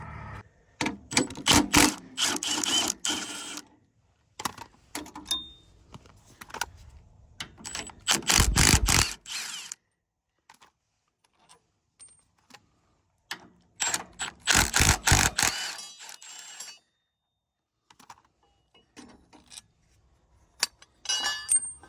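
Bolts and a nut are threaded into a bracket on a Bobcat T86 loader with a ratchet, sounding as repeated bursts of rapid clicking separated by pauses, loud and close, with no talking.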